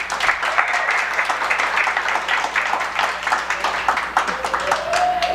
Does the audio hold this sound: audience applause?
yes